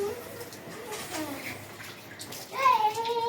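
Water splashing onto a small child during outdoor play, a continuous wet rush with children's voices and chirpy calls mixed in, growing louder near the end.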